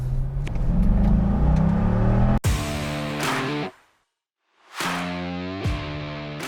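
A 1999 Corvette convertible accelerating hard, its engine roaring up through rising revs, cutting off briefly for a gear change, then surging again with a sharp climb in pitch.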